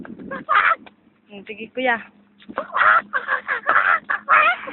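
A chicken clucks and calls near a family outing at a memorial park in Buhangin, its cries mixed with children's and adults' voices talking over it.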